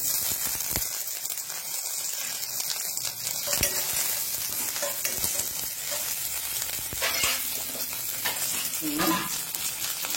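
Garlic, mustard seeds and curry leaves fry in hot oil, giving a steady dense sizzle with scattered pops and crackles, close and moderately quiet, with no voices over it.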